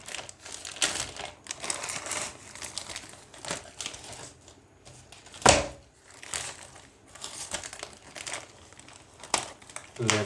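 Plastic polythene packaging around an Apple Smart Slim Trifold iPad 9.7 inch case crinkles and crackles in bursts while being unwrapped, close and continuous, with one sharper crunch midway.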